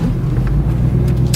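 A C5 Chevrolet Corvette Z06 with a 6-speed manual gearbox pulls away under steady load, its deep, close engine rumble droning continuously with a few faint higher hisses near the end, and no talking over it.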